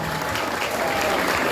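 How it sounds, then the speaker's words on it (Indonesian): Audience applause at a school Maulid Nabi commemoration, a steady wash of clapping from a crowd that holds even throughout, with no voice over it. "Tepuk tangan buat beliau semuanya."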